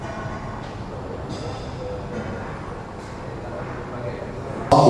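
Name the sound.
London Underground tube train departing at Paddington station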